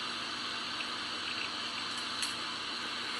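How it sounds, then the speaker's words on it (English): Water heating toward a boil for coffee, a steady dense hiss and rushing bubble with faint ticks and pops, continuous and close throughout with no talking. "it gets no more exciting than the water coming to a boil"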